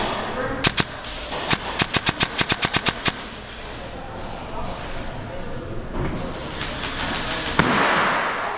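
A Polarstar airsoft gun fires full auto outdoors during an airsoft game, with a burst of sharp, evenly spaced cracks up close, then scattered shots and a louder pop later, while players shout in the background.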